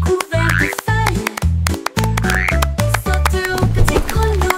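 A little frog croaks over and over in a bouncy rhythm, close and clear, blended with a cheerful musical backing.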